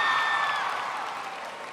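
Audience applause at a large FBLA national conference opening ceremony, a dense steady wash of clapping that fades gradually across the short stretch, with a faint tonal hum at the start.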